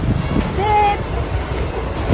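A passenger train rolls along steadily with a rumbling wheel-and-carriage drone, and a brief squeal or whistle-like tone rises near the start; the noise is close and fairly loud.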